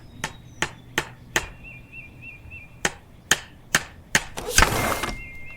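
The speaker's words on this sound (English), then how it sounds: "The hammering is for the birds." A hammer strikes wood while a birdhouse is being built, about a dozen sharp, close knocks at an uneven pace, followed by a brief burst of louder clattering.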